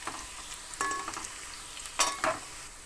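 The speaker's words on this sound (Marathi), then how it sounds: "आता यामध्ये कांदा घालून घ्यायचा. कांदा थोडासा ब्राऊन होईपर्यंत परतवू द्यायचा." Onion pieces stirred in hot oil in a pan for egg fried rice give a quiet sizzle, with a few louder scraping bursts of stirring spaced across the clip.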